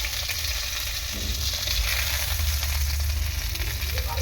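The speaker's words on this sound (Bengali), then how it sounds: "বেগুনগুলো ভেজে নেবো" Eggplant pieces frying in hot oil in a home kitchen, making a loud, dense, continuous sizzle close to the pan with only slight variation, and no voices.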